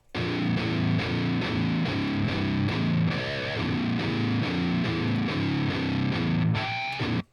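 Heavy distorted electric guitar through an untweaked default amp preset, chugging rhythmic power chords, loud and dense, ending with a sustained ringing note before cutting off.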